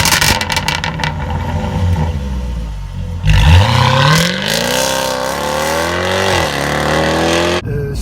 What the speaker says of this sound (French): son tempérament moteur qui est vraiment un moteur très très plein, le gros V8 qui est joyeux, qui est heureux de vivre